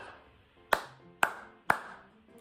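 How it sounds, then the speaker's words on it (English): Three sharp hand claps sound close and clear in an even rhythm, spaced roughly half a second apart, with a quiet room in between. "BFG, we could clap as"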